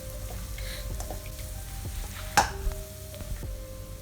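Chopped ginger and onion frying in a pan are stirred with soft scraping strokes and quiet sizzling, broken by one sharp clack of the utensil against the pan midway.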